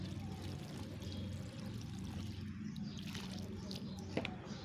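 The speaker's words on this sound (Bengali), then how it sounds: "যার জন্য জল দিয়ে দেবো গাছটায়" Water is poured onto a plant in a pot, a continuous close trickling and splashing that runs throughout, with no speech.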